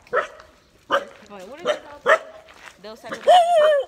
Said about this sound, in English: that's a funny bark